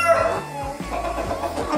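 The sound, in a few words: pelung chickens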